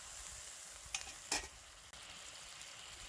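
Spiced masala paste sizzling in a hot pan for a baingan (eggplant) roast as a little water is splashed in: a steady bright hiss with a couple of short sharper spits.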